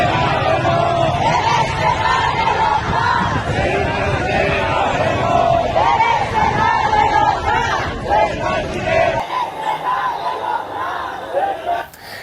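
A large crowd gathered on the streets of Iran, a dense roar of many voices shouting and chanting together, loud and continuous before thinning abruptly near the end.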